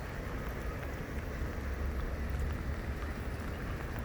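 Steady rain falls on a cold day at Coney Island in Brooklyn, a continuous even hiss with a low outdoor rumble and no voices.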